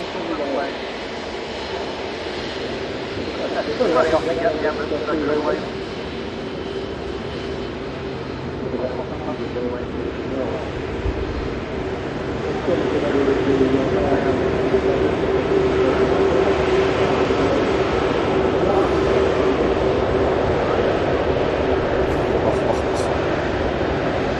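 A jet aircraft taxis past on the runway at Manchester Airport, a sustained engine roar and whine that builds louder in the second half. Voices talk over it nearby.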